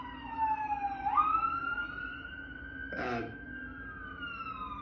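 An emergency vehicle siren tone glides and holds on a rising pitch, fairly near, with a brief burst of another sound midway, as the vehicles pass.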